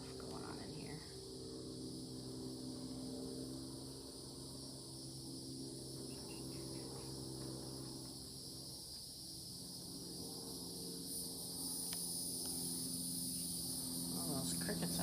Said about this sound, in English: All those crickets out there making quite a bit of noise